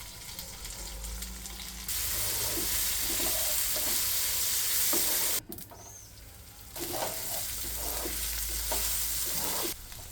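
Sliced brinjal fries in a pan for vangi bath, a loud continuous sizzle with stirring scrapes and soft clinks, briefly broken by a short pause before the frying noise resumes.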